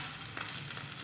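Fish pieces frying in a little oil on a gas stove, a steady close sizzle that fills the short moment with no voices.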